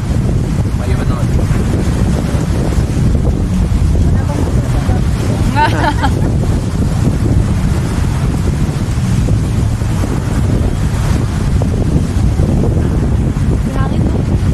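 Strong wind buffets the microphone on a beach in a steady, loud roar with surf-like rumble throughout, and voices are heard faintly over it.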